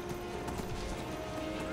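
Horse hooves clip-clop along a road in the video game Skyrim, a steady, close rhythm of hoofbeats under a constant hum, with a voice talking over them.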